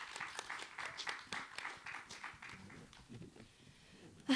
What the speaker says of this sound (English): If I can get a round of applause for our wonderful guests.